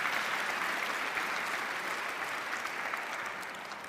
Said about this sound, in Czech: to stojí za potlesk